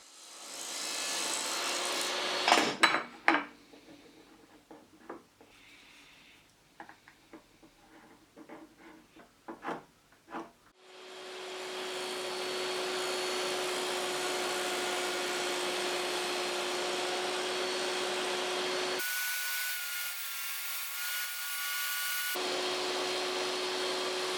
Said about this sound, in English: Now it's time to make stop grooves to fit the back panel into the carcass.